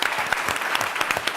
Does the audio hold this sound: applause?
yes